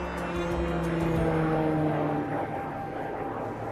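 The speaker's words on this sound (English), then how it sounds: "I don't know what plane that is." A propeller airplane drones steadily overhead at a campsite, a loud continuous engine hum with a wavering pitch that slowly fades.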